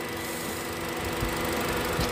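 A 2013 Honda Jazz RS automatic (GE8) sits idling, its engine giving off a steady, even mid-pitched hum with no change in revs across the moment.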